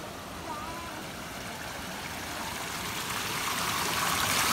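Spring water runs steadily from a natural roadside source, a continuous broadband trickling and gushing that builds slightly in loudness, heard close with no talk over it.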